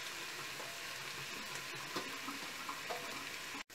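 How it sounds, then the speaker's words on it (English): Onions fry in hot oil with a steady hiss of sizzling, faint and even, with a few soft stirring clatters before a brief cut near the end. "Oil is hot, adding the onions."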